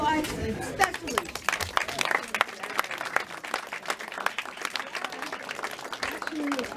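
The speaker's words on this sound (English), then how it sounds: "Clap it up, boys, especially." Applause from a lecture audience, dense scattered claps throughout with voices and chatter mixed in, steady and fairly close.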